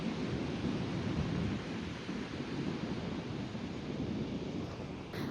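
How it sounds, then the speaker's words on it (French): Strong wind gusts over the seaside, a steady broadband roar with low rumbling buffets against the microphone, loud and continuous throughout. "Il y a du vent, il fait pas chaud."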